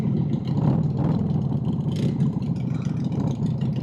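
A 2000 Harley Davidson Sportster Bobber motorcycle engine revving, a loud, close, rumbling low throb with lumpy pulsing and a brief rise in pitch midway, steady throughout.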